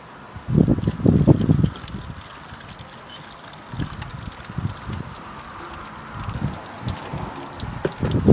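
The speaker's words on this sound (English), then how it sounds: "The plan is to pour boiling hot water onto this" Boiling hot water poured onto a Jaguar X-Type front car strut splashes and trickles in uneven bursts, loudest near the start and then softer, intermittent, close up.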